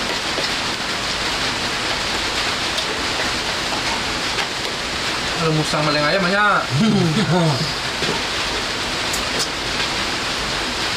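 Steady heavy rain pattering on a surface, a dense constant hiss, with someone talking briefly over it midway.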